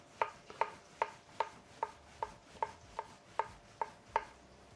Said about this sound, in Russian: Шампиньоны нарежу пластинками.